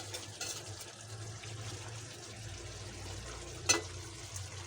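Chicken with ripe tomato and potato sautés in a pan with a soft, steady sizzle and faint stirring scrapes, plus one brief clink; fairly quiet overall and no speech.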